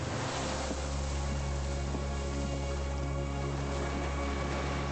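Ambient game sound from Disco Elysium of water lapping and low, droning ship horns sounding far off, a steady continuous wash with sustained deep tones and no talking.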